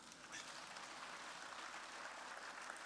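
An assembly audience applauds continuously, a soft, even, distant patter of many hands clapping with no break.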